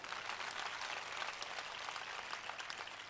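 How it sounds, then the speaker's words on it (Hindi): Women of a church congregation applaud together in a continuous wash of clapping, even and sustained from start to finish, heard at a modest level with no one talking over it. "वो जोरदार तालियां बजा सकती हैं"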